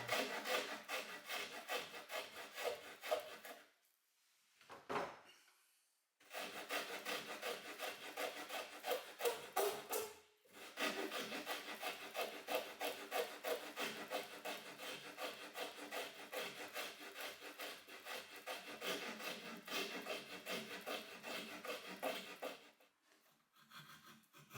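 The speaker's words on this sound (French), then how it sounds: "La scie à chanterelle est quand même assez pratique pour justement couper certaines courbes." Coping saw cutting curves in a wooden template, steady rapid back-and-forth rasping strokes close up, with two brief pauses between long runs of sawing, no voices.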